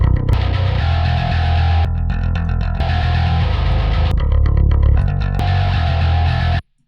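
A heavily distorted bass from a metal mix, run through a distortion plugin that also dirties the high end, plays thick, gritty sustained notes with brief rhythmic stops, loud and dense before cutting off abruptly.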